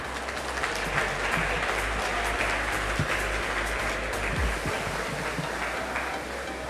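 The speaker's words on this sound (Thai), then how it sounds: "ขอเสียงปรบมือดังๆค่ะ" Audience applause at a Thai Web3 summit, broad sustained clapping from a large hall crowd over a steady low hum, with a few sharper individual claps standing out.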